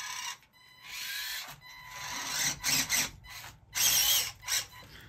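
A 1/24-scale micro RC crawler on Injora 55x20 Comp Pin tires drives through sand, its small electric motor whining while the tires scrape and crunch in uneven bursts, with brief pauses between pushes.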